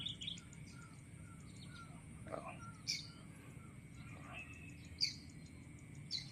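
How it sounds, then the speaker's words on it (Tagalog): Free-roaming birds feeding in a farm field give scattered, faint chirps and short calls over a low steady background hum, with a few sharper tweets standing out now and then. "yung mga ibon na gala, ayan, kain sila ng kain"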